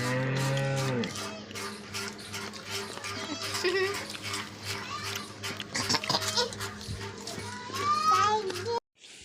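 A cow whose calf has died moos loudly and repeatedly close by, with a child and other people talking throughout.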